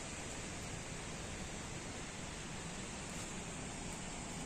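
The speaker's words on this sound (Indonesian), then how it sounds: "Dan di bawah kita itu adalah sungai." A river flowing beneath a bridge on an old lorry rail track through a dangerous, landslide-prone area in Indonesia, heard as a steady, loud broadband rush of water filling the whole clip with no voices.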